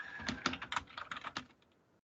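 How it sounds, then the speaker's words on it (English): Quick, uneven clicks of typing on a computer keyboard, close and clear, patter for about a second and a half before trailing off into quiet. "If you just want to start typing, you can start typing."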